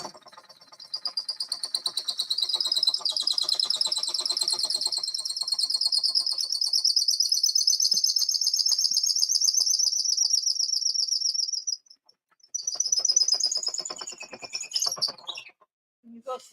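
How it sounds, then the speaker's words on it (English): Outdoors, a bird gives a high, sustained, rapidly trilling call that runs unbroken for about twelve seconds, pauses briefly, then resumes with shorter warbling phrases, loud and close. "You have a bird over there, Tim."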